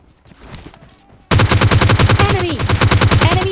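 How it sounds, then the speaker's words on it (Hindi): Rapid automatic gunfire in the shooter PUBG Lite, loud, dense bursts of shots fired close by after a quieter stretch with faint distant shots. "इस साइड से मुझे फायरिंग का साउंड आया"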